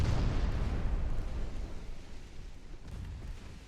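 A torpedo launch in the naval warfare game Ultimate Admiral Dreadnoughts, set in an 1890 Austria-Hungary campaign, comes through as a loud, deep rumbling whoosh. It starts strong and slowly fades over several seconds, with no talk.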